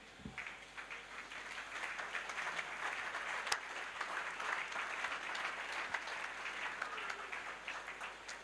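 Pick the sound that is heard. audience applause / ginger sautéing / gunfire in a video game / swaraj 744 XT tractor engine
audience applause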